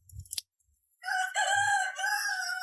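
A rooster crows loudly and close by, one sustained harmonic call after a brief cluck and pause, heard alone in a garage setting where car gas equipment is being serviced.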